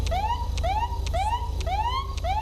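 A police car siren in the GTA V LSPDFR game, a loud electronic wail that rises and falls in a steady repeating cycle about every half second, continuous and alone with a low engine hum beneath.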